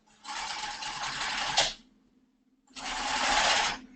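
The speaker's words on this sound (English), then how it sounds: "And I keep stitching the long side." A sewing machine stitches the long side of a casing on a ballet bodice in two close, even bursts of rapid mechanical whirring separated by a short pause.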